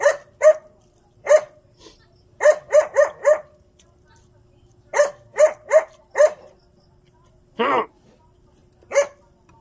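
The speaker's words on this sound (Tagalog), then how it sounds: "Maingay yung aso ko guys." A dog barks in short bursts, often in quick clusters of two to four, close and loud, with a brief whine near the end.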